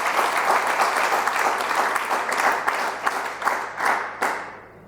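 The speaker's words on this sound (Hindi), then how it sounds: "तालियां बजाओ" A large crowd at a mass religious gathering in Delhi breaks into loud, dense applause, the clapping swelling with sharp accents and then tapering off over a few seconds.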